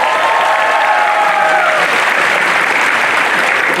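A large, loud crowd gives a full round of applause for the performer at a live concert session finale, with cheering voices briefly rising within the clapping.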